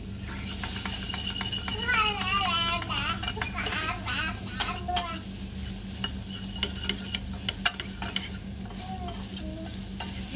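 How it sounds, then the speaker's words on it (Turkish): Mushrooms being sautéed with flour in a pan, a steady sizzle and frying hiss with scraping and stirring clinks of a utensil, while someone talks over it throughout. "Şöyle unun kokusu biraz çıktıktan sonra mantarlarını ekliyorum."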